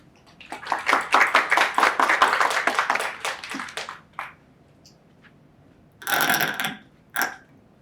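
Audience applause welcoming a speaker at a talk on Catholic artists, a burst of dense clapping for about four seconds that tapers off, then a few scattered claps and a short second flurry in a quiet lecture room.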